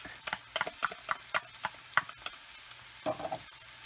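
Onions, carrots and garlic sizzle together in a pan while a utensil scrapes and stirs them in quick, uneven clacks, close and clear with no talking.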